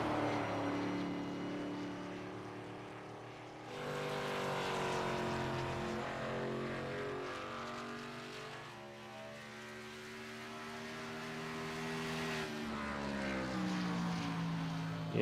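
Ty Sykes' race car in a racing video game winds its engine up at the bottom of the track: a loud, steady harmonic drone whose pitch climbs and falls in repeated sweeps, continuous for about fifteen seconds with no talk.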